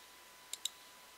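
Computer mouse clicked twice in quick succession, two faint sharp clicks about a tenth of a second apart against near silence.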